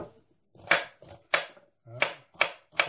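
A knife chopping peeled carrots into rough pieces on a board: seven crisp, evenly spaced thuds, close and clear, with no talk over them.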